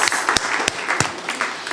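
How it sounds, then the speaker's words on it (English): A short burst of audience clapping greets a performer on a live radio show, with a few sharp, loud individual claps standing out over a smaller crowd's scattered applause. "How about one more round of applause for Alan?"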